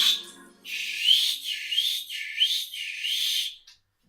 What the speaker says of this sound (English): My whistle has now improved. Congratulations, choppers. The whistle is about to come out.